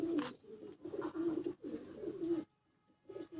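A home-bred pigeon on a rooftop coos close up in a few rolling, throaty phrases, followed by a short silence and the start of another coo.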